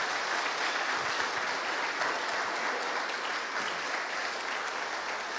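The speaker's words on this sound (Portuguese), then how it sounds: "Aplauda o seu Deus bem forte." A church congregation applauding during a family worship service, a continuous wash of clapping heard from some distance, fairly faint but steady throughout.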